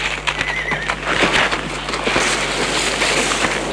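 A horse neighs loudly while hooves clip-clop steadily nearby, set in a French-dubbed Western film about a wagon convoy, with the neigh and hoofbeats continuing for the whole few seconds.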